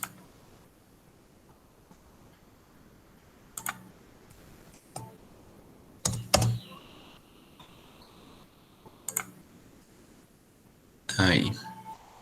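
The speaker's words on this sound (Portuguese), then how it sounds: "Deixa eu dar um enter aqui no meio." Scattered clicks of a computer keyboard during an office software lesson, a few separate key presses and a louder cluster near the end like the Enter key being struck, over a quiet background.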